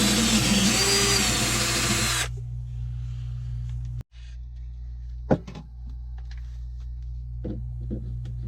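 Power drill boring holes for a B&G autopilot mount on a sailboat, whining loud and close for two seconds before stopping, followed by quiet low hum, a sharp click and scattered small knocks.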